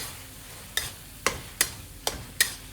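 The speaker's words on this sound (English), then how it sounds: "all that mashed aubergine, and the ginger and garlic that's all mashed in there. Give it some lovely flavor and give that a stir." Mashed aubergine with ginger and garlic being stirred in a pan for baingan bharta, five sharp scraping strokes of a spoon at a steady pace over a low background sizzle, close and alone.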